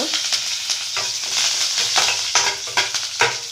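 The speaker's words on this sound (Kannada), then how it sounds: "ಸಾಸಿವೆ ಸಿಡಿತಾ ಇದೆ ಕರಿಬೇವು ಹಾಕ್ಕೊಂಡು" Mustard seeds splutter in hot oil as curry leaves go in for a chutney tempering: a close, steady sizzle broken by sharp crackling pops and bursts, with no talking.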